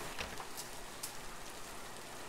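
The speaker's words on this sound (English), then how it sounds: "It actually lowers the sound of the rain." Steady rain from the video game The Cinema Rosa, a soft continuous hiss with scattered faint drop ticks, heard muffled as if through a closed door, fairly quiet and even throughout.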